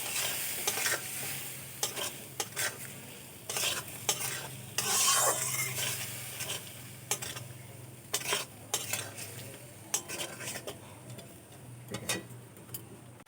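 Potato pieces and spices stir-fried in a pan for a silver carp curry, with a continuous sizzle under repeated scraping and clinking spoon strokes against the pan, close and fairly loud.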